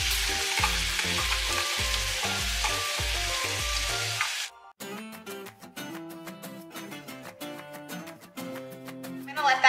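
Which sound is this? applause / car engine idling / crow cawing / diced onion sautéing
diced onion sautéing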